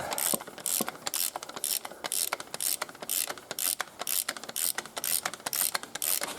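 A hand ratchet clicks rapidly and steadily at close range while tightening a bolt on a Ford Fiesta gearbox, the fast pawl clicks coming in short back-and-forth bursts.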